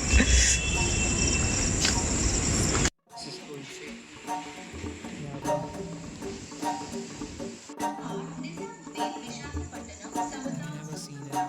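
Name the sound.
military train at Indian railway station at night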